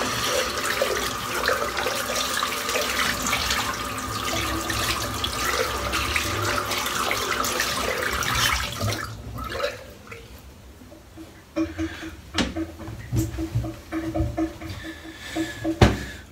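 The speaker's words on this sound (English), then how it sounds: "I'm just going to rinse the soap out now." Tap water runs steadily for about nine seconds while soap is rinsed out of a shaving brush, then stops, leaving scattered splashes, drips and clunks near a sink.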